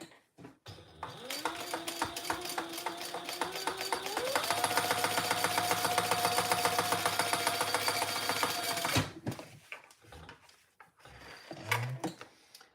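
A domestic sewing machine runs a line of top stitching on fabric, its rapid motor whir and needle clatter building in speed, steady for several seconds, then stopping with a few soft handling clicks.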